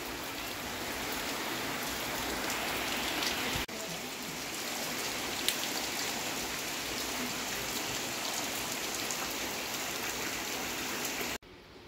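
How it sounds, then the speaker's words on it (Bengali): Rain falls with some wind in a dense, even hiss of drops that holds at constant loudness throughout, with no voices, before cutting off abruptly at the very end. "বৃষ্টিটা হওয়াতে একটু ঠান্ডা ঠান্ডা লাগছে, তার সাথে হাওয়াও আছে"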